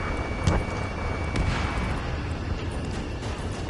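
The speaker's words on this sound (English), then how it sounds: "Gunfire and the roar of jets echoing through the streets." Distant gunfire and a low jet roar rumble through a city under martial law in Ace Combat 7: Skies Unknown, a steady dense wash with a couple of sharper bursts near the start.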